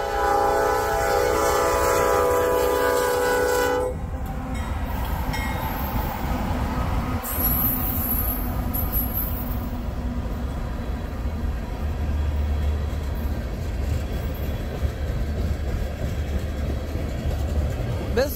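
A Norfolk Southern freight train hauling empty ethanol tank cars sounds its horn in a long blast on a cold day, then its wheels and cars rumble and clank steadily past at close range.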